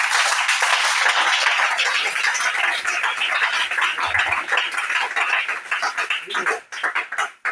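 A congregation at a French-language church service claps together, a dense, sustained burst of many hands that thins out and becomes uneven toward the end, with voices in the room.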